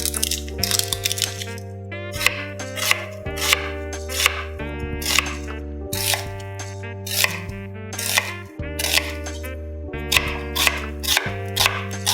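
A knife chops an onion on a board for pork pares: quick, regular thuds in short bursts with brief pauses, over steady background music.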